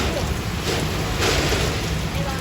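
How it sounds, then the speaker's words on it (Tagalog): A strong typhoon in San Juan, Batangas: a constant loud roaring wash of wind and heavy rain with no break. "Ang lakas ng hangin. Ito na yung talagang bagyo."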